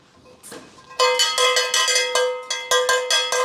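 A campana bell of the kind hung on pack mules rung in quick repeated strokes, bright clanging hits with ringing tails, close and fairly loud, after a quieter start, no speech.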